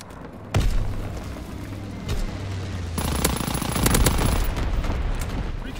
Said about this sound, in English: Low altitude bombing run underway.